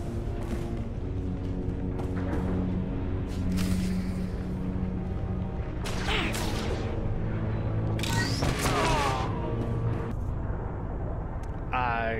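Grenades go off in Star Wars: The Old Republic, several loud blasts and bursts spread through the scene with combat noise and game effects underneath.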